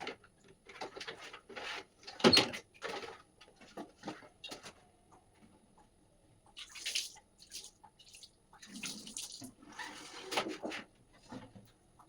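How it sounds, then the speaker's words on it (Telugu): Soapy detergent water is sprinkled over removed fridge parts to soak them during a refrigerator deep clean. Intermittent splashes and drips come in short bursts with quiet handling and rubbing in between, fairly soft overall. "కొద్దిగా సర్ఫ్ వాటర్ అయితే చల్లుకొని నానబెట్టుకుంటున్నాను ఫస్ట్ అయితే ఇవన్నీ కూడా."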